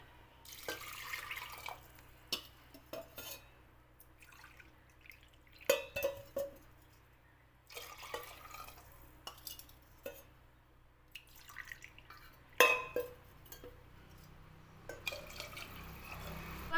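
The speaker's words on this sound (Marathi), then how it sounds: "एक वाटी डाळीसाठी ते तीन वाटी मी पाणी टाकणार आहे" Water is poured in short, splashing bursts onto lentils in a pressure cooker, with quiet gaps between pours and a faint room hum.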